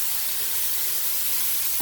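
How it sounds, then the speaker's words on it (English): Vegetables sizzle and steam in a hot pan for a stir-fry seasoned with Gold Mountain sauce, a steady broadband hiss that holds evenly from start to finish with no talk. "That steam is helping to cook those veggies"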